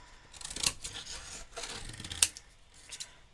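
Scissors snip card scraps freehand for a handmade autumn card, with a few quiet cuts and rustling paper and two sharp snips standing out, close up and with no talk.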